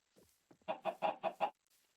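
Chickens on a Minecraft chicken farm give a quick run of five clucks, close and distinct, after a couple of softer lead-in notes, with no talking.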